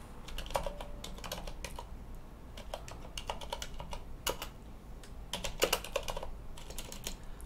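Typing on a computer keyboard during a Linux install, with bursts of rapid key clicks separated by short pauses, close and moderately quiet, with no talking.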